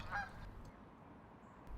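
A goose on a pond gives one brief honk at the start, followed by quiet outdoor ambience.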